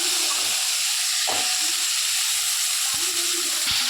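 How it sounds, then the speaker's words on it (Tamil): Drumsticks sautéing in hot oil with garlic: a steady, bright sizzling hiss that runs throughout, with a few faint clinks and low thuds underneath. "இந்த மாதிரி எண்ணெயில் நல்லா போட்டு வணக்கி விட்டுறணுங்க"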